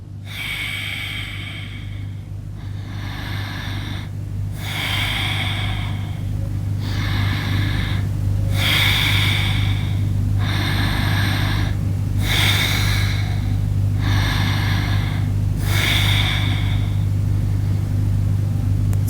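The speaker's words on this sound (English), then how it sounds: "Here equal amount of importance to both inhalation, exhalation. So abdominal breathing." Forceful abdominal breathing during a yoga breathing exercise: about eight loud, rhythmic breath bursts repeat at steady intervals close by, each inhalation and exhalation given equal weight, over a constant low hum.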